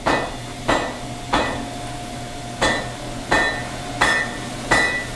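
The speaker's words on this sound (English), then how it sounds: "I'm going to come in, put the corner on the anvil, the other corner up, hammer straight down into it" A hammer strikes a hot steel hook on an anvil at a steady, deliberate pace, seven sharp ringing blows spaced under a second apart, each leaving a short metallic ring over a faint background hum.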